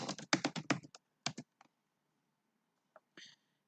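Quick bursts of typing on a computer keyboard, a rapid run of close, crisp key clicks, then a pause and a few scattered taps.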